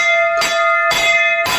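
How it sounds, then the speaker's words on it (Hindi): A temple bell at Dwarkamai in Shirdi is struck three times in steady succession, each loud metallic clang leaving a long ringing tone that carries between strikes. "जल्दी से सर्वप्रथम बाबा के दरबार में घंटी को बजाते हैं"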